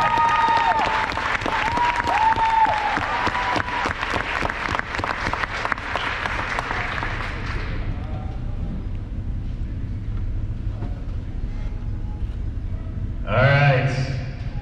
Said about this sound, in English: So let's have a nice round of applause.